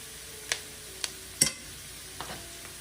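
Cabbage being stir fried Jamaican style in a pan: a few quick scraping stir strokes, roughly half a second apart, over a faint steady sizzle.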